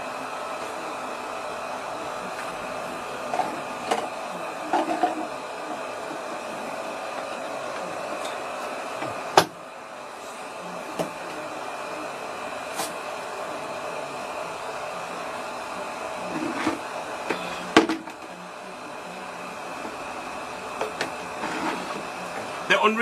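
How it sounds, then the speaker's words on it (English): A hair dryer blows steadily on natural hair, a continuous broadband whoosh that lasts throughout, with occasional faint clicks and knocks over it. "The only reason I'm using a dryer is for you."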